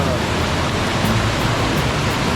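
A waterfall rushes along a forest hiking trail in Saraburi, a loud, steady, broadband roar of falling water filling the scene without pause, close by and unbroken.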